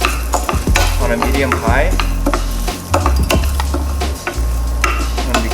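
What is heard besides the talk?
stirring rice toasting in olive oil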